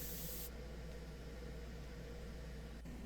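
A lacquer finish is sprayed onto wood, giving a steady, faint hiss that runs without a break from start to end. A low electrical hum sits underneath it.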